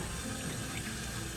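Steady running water rinsing a stray dog during a bath, a continuous splashing hiss from a tap or hose, close and even throughout with no talking.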